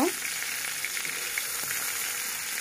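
Potatoes frying in hot oil for a Bengali vegetable khichuri give a steady, close sizzle and crackle that holds even throughout, with no talking.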